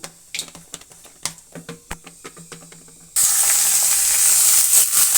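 Cut potatoes tipped into hot oil with nigella seeds, first a few light crackles and taps, then a sudden loud, steady sizzle that fills the pan and holds to the end.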